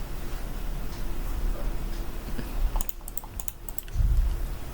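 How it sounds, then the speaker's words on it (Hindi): A quick burst of clicking computer keyboard keys, typed during a live Revit interior software class, rises over a steady background hiss. "आप WA टाइप करोगे"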